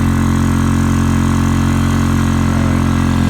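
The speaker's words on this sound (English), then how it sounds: "now you hear the engine working a little bit harder" Small engine running under load while pumping water for off-grid collection in freezing conditions, a loud, steady, close droning hum with a constant low throb and no voices.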